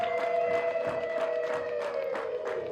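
A long, high, trilling ululation carries steadily through a crowd at a festive gathering. Scattered claps and cheers sit faintly underneath, and the sound stays fairly loud without a break.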